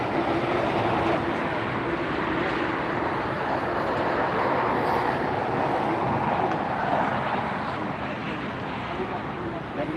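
A plane arrives at LAX airport, a steady broad roar of jet noise heard from a distance under wind, with people talking over it.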